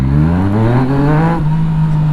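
Motorcycle in sport mode with traction control set to 1 accelerates hard, engine note climbing loud and close, then levelling off briefly before continuing.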